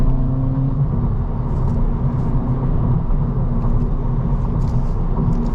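Steady road noise inside a 2024 Acura Integra A-Spec with a 6-speed manual while driving, a constant low rumble and tire whir with a faint engine hum, even and unbroken with no talking.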